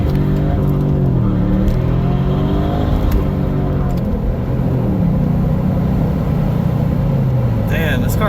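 A 1999 Mercedes CLK430 engine revs and accelerates hard, its deep rising harmonics sweeping up through gear changes, loud and close throughout.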